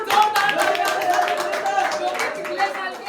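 Audience applause for team captains and owners at a cricket league captains' draft event, a dense, steady clapping crowd with voices mixed in throughout.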